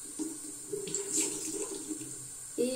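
Water runs from a tap into a sink to wet a makeup sponge, a steady close splashing stream that briefly surges louder near the end.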